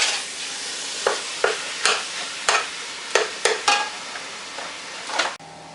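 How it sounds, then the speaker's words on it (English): Ground beef browning in a pan for lasagna: a steady close sizzle broken by about a dozen sharp scraping strokes of a spoon stirring the meat, with no talking. "And my ground beef is cooking."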